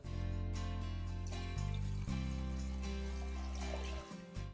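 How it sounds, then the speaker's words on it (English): Water pours steadily into milk in a pot on a stove, a continuous close liquid stream over a low, steady tonal hum. "I also add water"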